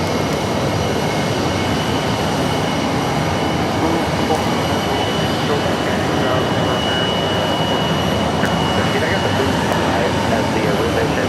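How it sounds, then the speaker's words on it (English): American Airlines Airbus A321 jet landing at Phoenix Sky Harbor, a loud, broad, continuous engine roar that stays steady and close throughout, with a voice talking over it. "American Airlines Flight 407 landing shortly, coming in from Dallas Fort Worth. An Airbus A321, 6 years of age, landing here at Phoenix Sky Harbor."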